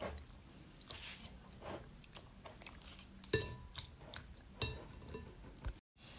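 A utensil stirs and mixes maja blanca mixture in a pot or bowl, giving soft scraping and occasional sharp clinks against the container, quiet and irregular, briefly stopping near the end.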